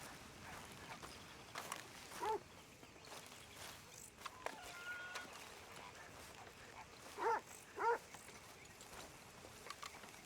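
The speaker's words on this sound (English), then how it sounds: "A dog!" A dog in the video game Red Dead Redemption 2 gives a few faint yips and whimpers, spaced out over quiet ambient game sound with soft footsteps.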